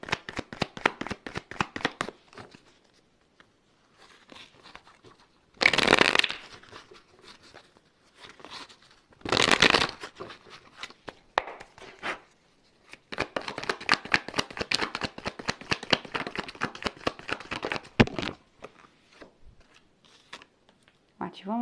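A tarot card deck being shuffled by hand: repeated quick riffling flutters in bursts with a few sharp louder riffles, under and between a person's talking.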